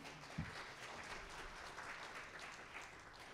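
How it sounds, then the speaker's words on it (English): Audience applause for a public-health professor at an academic conference session, a continuous, fairly faint and even patter of many hands clapping in a large room. "Let's give him an applause, give him a hand."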